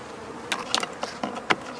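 Honeybees buzz around a newly introduced queen inside an open hive, a close, steady hum with several brief louder swells as individual bees pass near.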